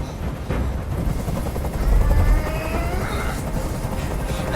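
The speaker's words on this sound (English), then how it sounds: "Tell that helicopter to get out of here." A hovering helicopter in the video game Detroit: Become Human gives a steady, continuous rotor thrum and wash that fills the whole clip at moderate level, with no talk over it.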